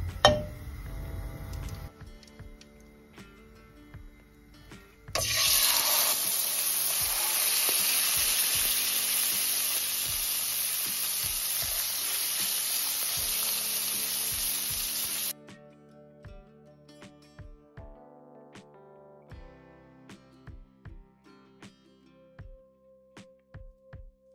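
Oil sizzles loudly in a hot, lightly greased frying pan readied for braised mackerel or horse mackerel, a steady bright hiss lasting about ten seconds between quieter clinks and taps.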